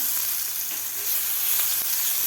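Ground green chilli and garlic paste hitting a hot tempering in a pan, a steady bright sizzle with faint crackles, close and continuous without talk.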